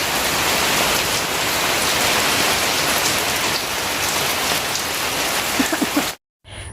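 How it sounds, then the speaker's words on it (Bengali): Steady, heavy rain pours down close by in a dense continuous patter, ending abruptly with a short silence. "জুই দাঁড়িয়ে দাঁড়িয়ে বৃষ্টি দেখতেছে"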